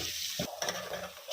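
Garlic fries in a pan, giving a close, steady sizzle broken by brief stirring scrapes, alone without talk.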